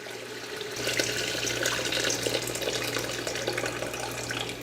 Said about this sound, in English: We're going to create a broth by adding some of the hot water to it.